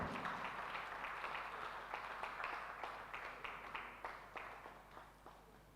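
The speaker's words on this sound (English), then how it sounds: "A round of applause, please." Applause from the audience at an award ceremony during a West African pig farmers' forum: soft, distant clapping from a crowd with a few sharper claps standing out, holding steady before slowly thinning.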